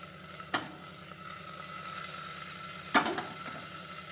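Mustard seeds and crushed garlic frying in oil, a steady close sizzle broken by two sharp popping crackles.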